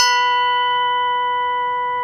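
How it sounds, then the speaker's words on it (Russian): A struck bronze plate rings out with one loud, clear bell-like tone whose bright overtones fade slowly over two seconds, heard alone and close. "Вот я продемонстрирую вам голос бронзы самой по себе."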